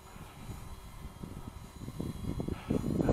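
An UpAir One video drone flies in wind, its rotor whine mixed with gusty buffeting that grows louder toward the end.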